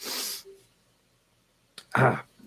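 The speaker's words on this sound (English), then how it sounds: "I have to sneeze." A single sneeze rings out: a sharp breathy intake, a pause, then a loud explosive burst, with nothing else around it.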